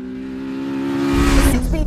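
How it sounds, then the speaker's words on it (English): A Mugen Civic Type R's twin-exhaust engine revs hard toward high RPM, its tone climbing and swelling louder in the second half of a short, close burst. "Those 2 big exhaust tailpipes are noisy enough to remind you that you've got something a little bit special underneath you."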